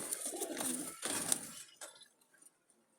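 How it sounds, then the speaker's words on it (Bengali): Jalali pigeons cooing in a loft, with close, soft bursts of sound in the first second and a half that fade to near silence by the end. "এই যে কবুতর"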